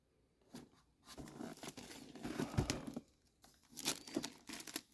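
Crinkly plastic packaging of a Figure Obscura green Frankenstein's Monster figure being opened and pulled apart, with bursts of crumpling and tearing rustle up close, broken by short pauses.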